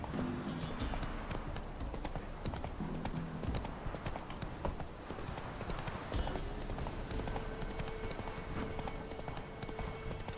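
Hooves of Roach, Geralt's horse in the video game The Witcher 3, clip-clop in a steady galloping rhythm over ambient game music and outdoor sound, with a brief voice at one point.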